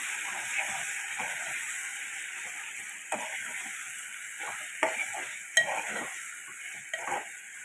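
Onions fried with spices and salt for egg and drumstick curry, a soft steady sizzle in the pan punctuated by scattered scrapes and clinks of a spoon stirring, quiet and close.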